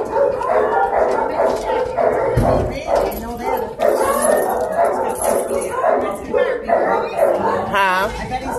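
A terrier mix puppy barks, yips and whimpers in quick bursts close by, mixed with people chatting and chuckling throughout.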